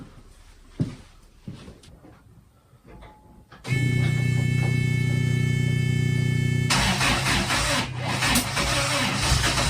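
A few quiet knocks and clicks, then a rally car's engine, an Imp engine, cranks and catches, running loud and steady with a strong hum, its tone shifting partway through.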